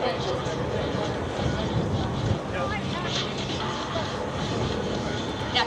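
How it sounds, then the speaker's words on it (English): A T-28 Trojan with a radial engine flies past at an air show, giving a steady engine roar mixed with wind noise that rises and falls slightly across the clip. "most importantly, hear those beautiful radial engines"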